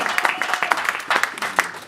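A church congregation breaks into applause during a worship service, a burst of scattered hand claps from a crowd, fairly near and moderately loud, with a voice briefly audible underneath.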